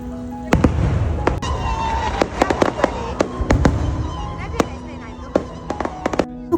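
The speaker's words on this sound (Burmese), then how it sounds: "ညဘက်ဆိုရင်လည်းဒီလိုမျိုးမီးရှူးမီးပန်းတွေဖောက်ပြီးတော့ကျင်းပတာလည်းတွေ့ရတယ်" Fireworks burst over a night festival in Sukhothai, Thailand: repeated sharp bangs and crackles in irregular clusters, some close and loud, over a steady crowd rumble with voices in the background.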